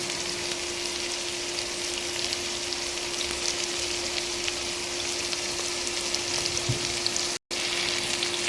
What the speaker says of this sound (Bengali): এই অবস্থায় এটাকে বেশ ভালো করে ভেজে নেব।